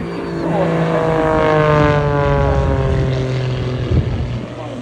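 A propeller aerobatic plane tumbles through a display at the Bournemouth Air Festival, its engine droning loudly and steadily with a pitch that rises and falls while a commentator talks over it.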